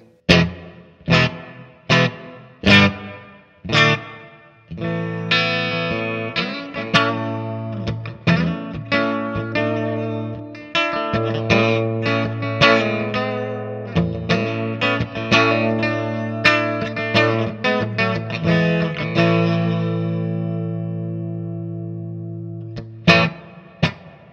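Electric guitar notes and chords through a Wampler Reflection reverb pedal with long decay ring out with a lush tail, each attack blooming and sustaining into a wash that slowly fades.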